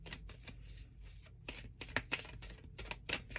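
Large tarot cards shuffled by hand, a quiet, close run of soft riffling bursts and flaps in uneven succession.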